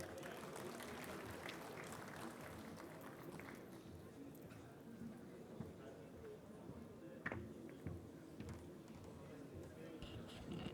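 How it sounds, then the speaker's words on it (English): Round of applause from a conference audience at an annual conference gathering, a steady mass of clapping filling the hall, with crowd murmur and voices mixed in throughout. "please welcome him here with a huge round of applause"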